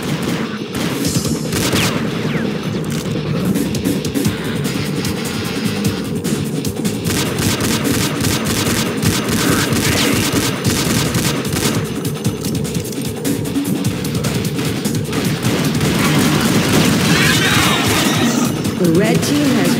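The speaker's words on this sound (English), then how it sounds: "We're taking enemy fire." Dense, continuous gunfire and explosions roar through an Unreal Tournament match, loud and unbroken throughout, with voices talking over the chaos.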